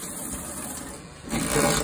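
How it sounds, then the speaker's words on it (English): A caravan toilet flushes in a short rush of water, a soft hiss that swells louder toward the end. "I'll just quickly show you the toilet and the toilet flush"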